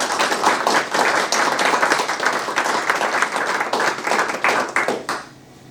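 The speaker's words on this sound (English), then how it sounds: "a round of applause" A fire authority meeting audience gives a round of applause: steady, dense clapping from many hands that lasts several seconds and then cuts off into near silence.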